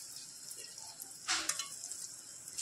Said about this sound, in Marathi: आपलं तेल इथे गरम करत घेतलेले आहे आणि त्या एक एक करून शेंगा सर्व सोडून घ्यायच्या आहेत